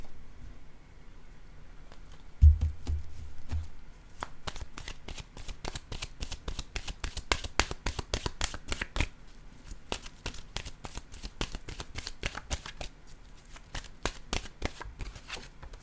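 An oracle card deck is shuffled by hand in a long run of rapid, crisp card riffles and taps, close and steady throughout with no talking.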